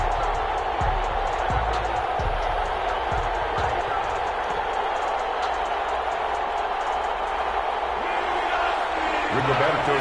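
Stadium crowd at a Cleveland Browns versus Pittsburgh Steelers NFL game in an EA Sports football video game on PS4: a constant loud crowd roar, with commentary talk running over it.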